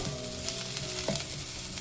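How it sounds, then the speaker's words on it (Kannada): Finely chopped half onion frying on a medium flame, a steady continuous sizzle with faint stirring scrapes, close and alone without any voices. "ಇವಾಗ ಒಂದು ಅರ್ಧ ಈರುಳ್ಳಿ ಸಣ್ಣದಾಗಿ ಕಟ್ ಮಾಡಿ ಹಾಕೋತಾ ಇರೋದು ಇದನ್ನು ಕೂಡ ಒಂದು ಸ್ವಲ್ಪ ಹಸಿ ವಾಸನೆ ಹೋಗೋ ತನಕ ಮೀಡಿಯಮ್ ಫ್ಲೇಮಲ್ಲಿ ಹುರ್ಕೊಳ್ಳೋಣ"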